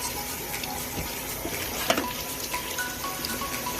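Tap water runs steadily into a sink while a makeup sponge is rinsed and soaped, a continuous close splashing wash with faint clinks and no talk.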